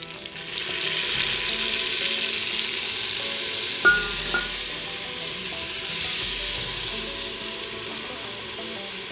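Carolina pork simmers in a vinegar-based sauce with cayenne in a chuckwagon pot, giving a constant close sizzle and bubbling that runs through without a break, with a brief metallic clink partway through.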